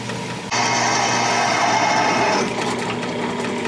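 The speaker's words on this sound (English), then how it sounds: "now we're gonna drill press it, because I have a drill press, why not?" A drill press starts abruptly with a steady motorized whine and runs for about two seconds as the bit cuts into plastic, then eases off into a lower hum.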